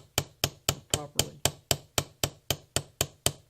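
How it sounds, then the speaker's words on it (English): Light, small hammer tapping the rivet shaft on an axe's leather sheath, a steady run of about thirteen short, evenly spaced metallic taps, close and fairly loud with no voices. "So I'd rather use little short taps like that with a small lightweight hammer"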